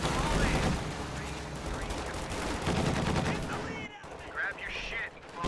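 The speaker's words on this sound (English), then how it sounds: "Try to get a few shots off on this AA half track." Dense gunfire from a World War II real-time strategy game battle involving an anti-aircraft half-track, a continuous loud crackle of rifle and machine-gun bursts with occasional heavier blasts, with a commentator talking over it.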